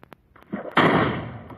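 A redstone cannon fires in Minecraft: a few soft clicks, then a loud close explosive blast that rumbles and fades over about a second.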